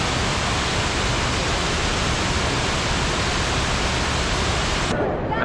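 The waterfall in Greenacre Park, New York, rushes as a dense, loud, unbroken wash of falling water that cuts off abruptly at the end.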